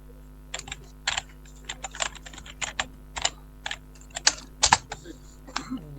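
Typing on a computer keyboard during a Canva design session: irregular bursts of close, crisp key clicks, some in quick clusters and others isolated, over a faint steady hum with no talking.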